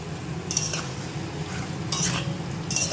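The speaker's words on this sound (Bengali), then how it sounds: "এটা আগে মশলার সঙ্গে ভাজা হোক" Chicken sizzles with spices in a pan, with steady frying hiss and a few louder bursts of scraping and stirring, close up and without voices.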